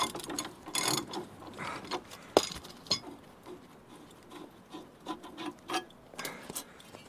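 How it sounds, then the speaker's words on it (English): A ratchet wrench works a 22mm-headed bolt holding the plates on an Iveco Daily camper van's front suspension, giving scattered faint clicks and metallic clinks that come in irregular bursts against a quiet workshop background. "get my ratchet on that one, is a 22mm headed"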